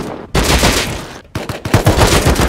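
Full-auto AK rifle fire in the survival game Rust, two loud close bursts of rapid shots separated by a brief pause, the second burst choppier with distinct punchy reports.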